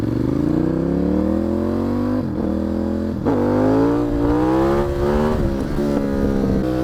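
A car engine revs hard and climbs in pitch, drops briefly as it shifts into first gear, then pulls up again with a strong, close, continuous drone.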